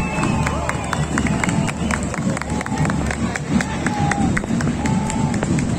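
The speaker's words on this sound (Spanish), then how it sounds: "El aplauso del público presente, de las autoridades también" Crowd noise from spectators at a civic student parade in Guayaquil, a steady wash of clapping, cheering and babble with scattered sharp claps and whistles, a voice audible over the crowd.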